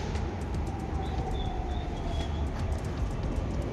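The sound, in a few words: underground metro train in Pune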